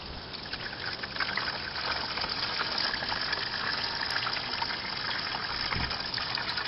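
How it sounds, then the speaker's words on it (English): Washer fluid pours steadily into a 2016 GMC Sierra's reservoir in a continuous trickling gush, a close, even stream that keeps up without a break. "top the reservoir off with some more washer fluid"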